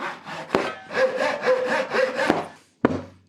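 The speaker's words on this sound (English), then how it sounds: "I'm just going to take the saw and cut these triangle tops off." A hand saw cuts through wood, cutting the triangle tops off the ends of a homemade wooden toolbox: several rhythmic rasping back-and-forth strokes, close and loud, ending with sharp knocks as the piece comes free.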